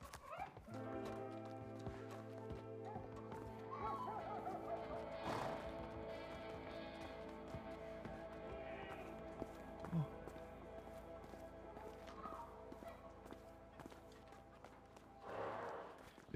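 Horse hooves clip-clop at a steady running rhythm while riding in the video game A Way Out, fairly close and continuous under a layer of game sound, with a brief crash near the middle.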